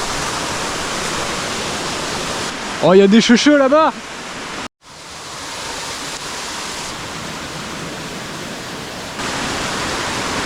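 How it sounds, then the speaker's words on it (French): A waterfall roars in a steady broadband rush while an angler crosses it during summer fishing; someone speaks briefly over the loud, constant water. "Alors que je traverse une cascade."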